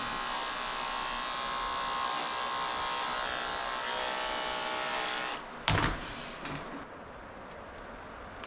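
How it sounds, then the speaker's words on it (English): A Dremel rotary tool buzzes steadily while grinding a Mini Goldendoodle's nails, a close high whine for several seconds that then stops, followed by a few faint knocks and clicks. "after I cut his nails, I went ahead and I tried to Dremel them just to get them as short as possible"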